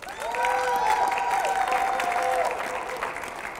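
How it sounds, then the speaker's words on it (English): Audience applause at a breast cancer awareness press conference, a loud, sustained burst of clapping from a crowd that swells and then slowly tapers off. "Give them both a round of applause."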